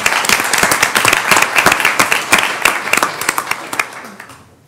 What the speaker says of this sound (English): So everybody please, round of applause for Mr.